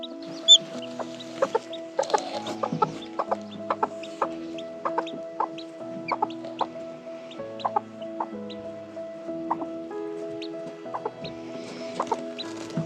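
Several hens cluck close by in a farmyard, short pitched calls and soft chatter repeating steadily throughout with no talk.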